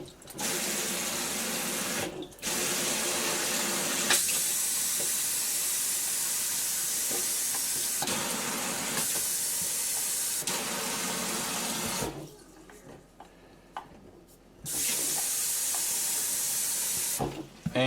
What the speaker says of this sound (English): Okay, I'm going to turn the water on.